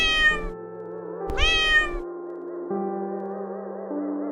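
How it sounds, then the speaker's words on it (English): Two clear cat meows, close and loud, the first at the start and the second about a second later, with a soft melodic backing running under and after them. "What does the cat say?"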